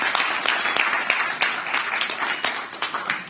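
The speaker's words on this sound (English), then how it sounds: "A big round of applause for Dr." An audience at an Indian academic conference on science, mathematics, technology and education applauds to welcome a guest, producing a dense, steady crackle of many hands clapping close by without pause.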